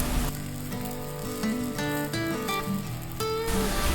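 Bottle gourd adai dosa cooks on a pan, with sesame oil poured into a small hole in the centre. It gives a steady, soft sizzle that runs the whole time under background music.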